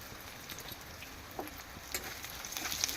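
Chopped onion fries in a pan for lemon rice, a steady soft sizzle with small crackles and pops, fairly close and with no talk over it.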